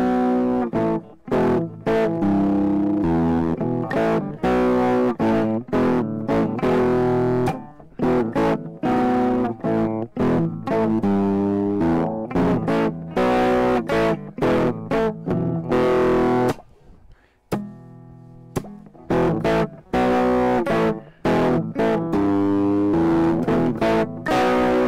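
An electric guitar with heavy distortion plays a blues rock riff, loud punchy chords in a driving rhythm with a short sustained break partway through.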